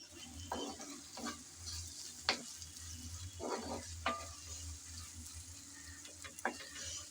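Tomatoes with chopped coriander stirred in a frying pan: irregular scraping strokes of a utensil over a low, continuous sizzle, close and moderately quiet.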